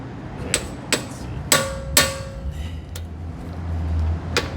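A hammer strikes an impact screwdriver on a stuck fastener in several sharp metallic blows, with a loose cluster of hits near the start and a lone tap at the end.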